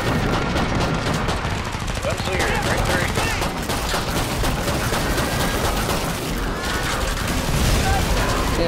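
Desert Eagle pistols firing in the video game Killing Floor 2, a dense, loud, nonstop clatter of shots and impacts layered over chaotic combat noise.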